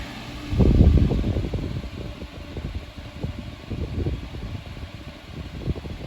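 A 1996 Super 12-inch desk fan running with new blades gives a close, steady whooshing hum, louder in its first second, then settling into an even airflow noise.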